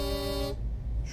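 Iveco truck horn in Euro Truck Simulator 2, one loud, steady, tonal blast lasting about half a second, then cut off, leaving low engine rumble behind.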